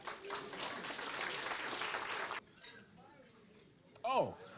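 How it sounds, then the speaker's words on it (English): Applause for two young ladies at a 50th wedding anniversary party, a dense burst of clapping that fills the first half then stops abruptly, followed by quieter room noise and a brief voice. "Please give a round of applause for these two young ladies."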